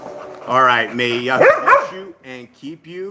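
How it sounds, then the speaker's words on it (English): Dogs bark and yip in the background, mixed in with someone speaking close to the mic, the barks partly buried under his voice. "Sorry for the dogs."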